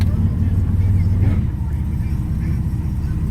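A 1989 Turbo Trans Am with 73,000 miles idles at about 900 rpm, a steady low rumble that stays even throughout with a slight swell early on.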